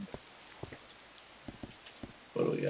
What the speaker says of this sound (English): Get the nice muffled rain sound.